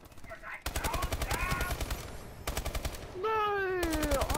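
Rapid automatic gunfire rattles in a Call of Duty Advanced Warfare multiplayer match, bursts of fast repeated shots with brief pauses, mixed with game sound effects and voices.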